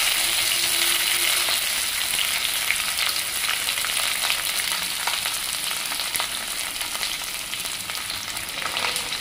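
Thinly sliced onion sizzles steadily in a pan for a pulao, a continuous close crackle with occasional stirring and no voices.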